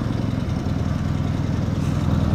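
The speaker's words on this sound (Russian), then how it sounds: "Глушитель не глушит практически ничего" A Dnepr motorcycle engine runs with a muffler that barely muffles anything, putting out a loud, raw, steady chugging exhaust rumble with fast regular pulses and no talk.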